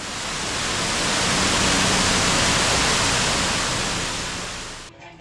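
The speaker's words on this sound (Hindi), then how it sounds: "यही है रुद्रा वाटरफॉल। गिरते पानी की आवाज़ महसूस कीजिए" Rudra waterfall on the Kedarnath trek, a loud, close, continuous roar of falling water with a broad hiss that swells slightly and then cuts off near the end.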